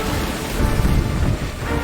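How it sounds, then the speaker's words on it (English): Heavy storm in an animated Star Wars show, a dense steady roar of rain with deep rumbling thunder underneath, loud and continuous with no talk. "Oh, the storm is here."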